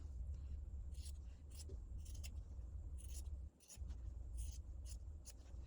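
Scissors cutting fabric along a spiral line to make bias binding, a series of crisp snipping bursts over a low background rumble, close by, no talking.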